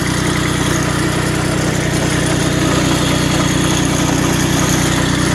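A Bolens Iseki H1502 diesel tractor idles after a cold start in snow, its engine a steady, loud, close chugging rumble with no change in speed throughout.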